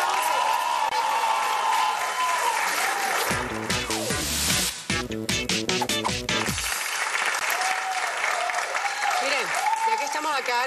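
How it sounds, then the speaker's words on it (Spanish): A television studio audience applauds and cheers, with dense clapping and crowd noise continuing throughout, while a presenter talks over it and a short burst of music plays midway. "Un aplauso, Josette Vidal, acá en Erika Tipo."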